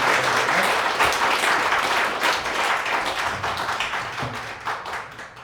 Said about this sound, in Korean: 우리 박수로 우리 목사님 장로님